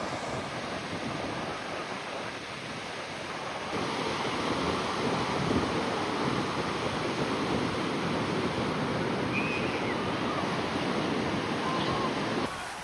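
Ocean waves on a beach make a broad, constant roar of surf mixed with wind buffeting the microphone, steady and fairly loud throughout.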